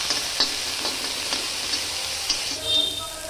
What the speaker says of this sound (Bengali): চিংড়ি মাছটা আমি একটু ভেজে নেব